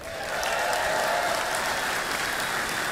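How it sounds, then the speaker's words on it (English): Sustained applause from an audience, a dense steady wash of clapping that continues for several seconds. "Why does that need applause?"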